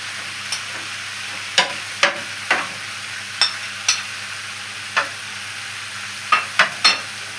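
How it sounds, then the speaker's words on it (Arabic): Chicken being stirred and tossed with garlic and spices in a pan, with about a dozen sharp scraping and clacking strokes in an irregular rhythm over a faint sizzle. "اقلبها في الفراخ كويس"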